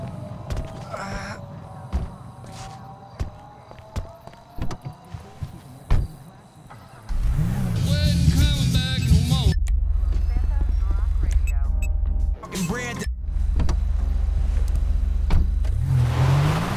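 Car engine in GTA V rising to a loud, steady drone as the vehicle pulls away, holding under game music and sounds with a brief dip before resuming; people speak over the first part.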